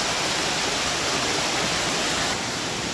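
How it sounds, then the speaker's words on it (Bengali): Cold mountain stream water pours down near the Shiva cave at Yamunotri, a steady loud broadband rush that fills the whole stretch without letup. "উপর থেকে জল আসছে,"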